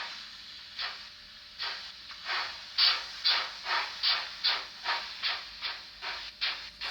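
A Fleischmann model DB class BR 043 steam locomotive gives off rhythmic chuffing hisses, a regular series of sharp steam bursts that build in strength and keep a steady beat, close and clear with no talking.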